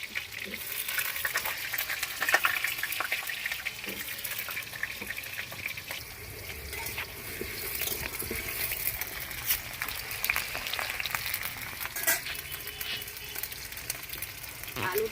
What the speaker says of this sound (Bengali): এই কড়া গরম হয়ে গেছে এবার আলু দিয়ে দেবো